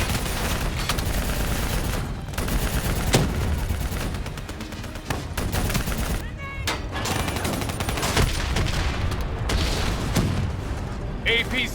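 Sustained, loud automatic gunfire and booms from Call of Duty Black Ops 3 as weapons fire at a VTOL aircraft. The shots form a nearly continuous barrage with brief sharp gaps, and battlefield voices are mixed in.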